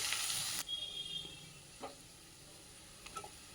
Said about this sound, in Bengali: এটা দিয়েও আমি ভালো করে নাড়াচাড়া করে সবজিগুলো ভেজে নিচ্ছি